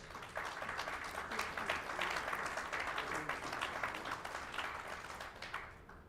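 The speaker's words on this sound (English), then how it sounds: "And feel free to applaud." An audience at a membership meeting claps steadily for several seconds, a moderate even wash of applause that tapers slightly at the end.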